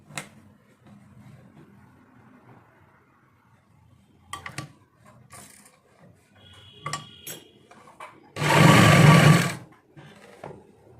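Sewing machine stitching a wide waistband strip onto a trouser: mostly quiet handling clicks and rustles, then one loud, close burst of fast whirring stitching lasting about a second before it stops.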